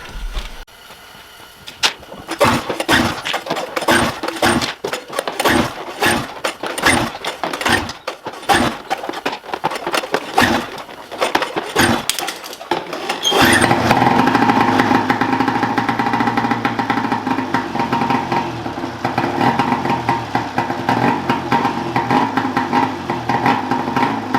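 A modified EXT snowmobile engine sputters with rapid pulling attempts, then catches and settles into a steady, loud, rough idle close by.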